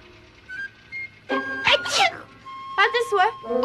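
An animated cartoon character lets out a sneeze amid other voices, a sharp vocal burst heard within ongoing talk.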